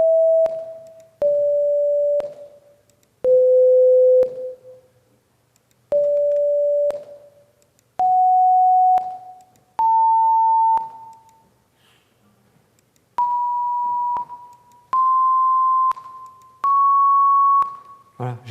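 Synthesized pure tones computed from a spectrum, played one at a time as a sequence of sustained notes, each about a second long with short gaps, loud and clean, pitches wandering then slowly rising.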